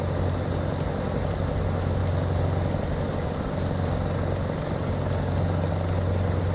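A truck drives in the game American Truck Simulator, a steady droning engine hum with road noise and faint regular ticking, constant and fairly loud, with no talking.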